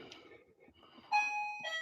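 A doorbell rings indoors with a clear two-tone electronic chime, sounding twice in quick succession over faint room noise.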